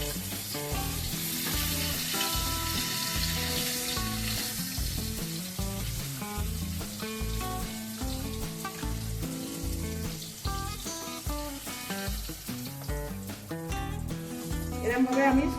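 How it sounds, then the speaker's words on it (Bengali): Golda prawns frying in mustard oil for a traditional Bengali prawn curry, a continuous loud sizzle and spitting crackle close by, with occasional stirring scrapes, swelling slightly toward the end. "এরকম ভাবে আমি সব মাছগুলো ভেজে নেবো।"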